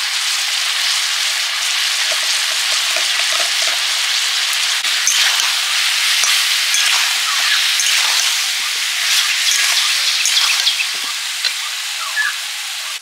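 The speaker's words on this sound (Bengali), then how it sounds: "ভাজা মশলা জিরে ধনে ভেজে গুঁড়ো করে নেব, তার জন্য ভেজে নিচ্ছি" Cumin and coriander seeds roast in a pan while the spoon scrapes and stirs, giving a loud, continuous hissing rush with brief rattles. No one speaks.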